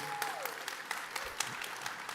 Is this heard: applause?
yes